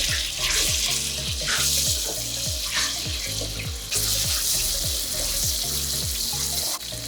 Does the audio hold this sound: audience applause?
no